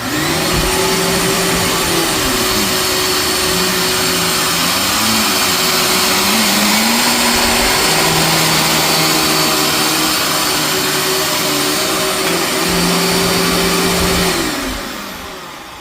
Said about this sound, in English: Next up, the Dirt Devil Extralight. This one I have to wear hearing protection for, because it is noisy.